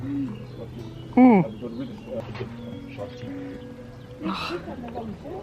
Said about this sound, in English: Can you hear the doves?